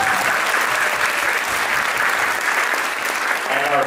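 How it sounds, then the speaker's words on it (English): Audience applause at a Bharatanatyam arangetram recital, honoring the MC: dense, steady clapping from a large crowd, loud and continuous throughout without pause. "A round of applause for our wonderful MC."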